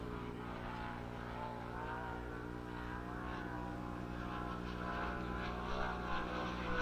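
Sprint car engines drone at Lernerville Speedway during time trials, a continuous fairly distant roar that rises and falls slightly as a car laps the dirt track, heard without any talk.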